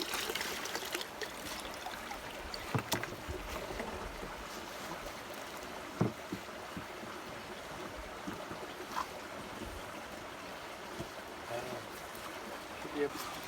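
Water sloshes and trickles steadily in a gold pan being shaken down to settle black sand, a quiet, continuous swishing with small splashes throughout.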